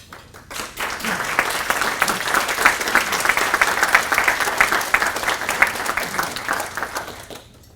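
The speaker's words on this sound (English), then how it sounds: "If we can give all of our awardees and teachers another round of applause" An audience at a Civitan Club grant awards banquet gives sustained applause, dense clapping that swells quickly and holds steady for several seconds before tapering off at the end.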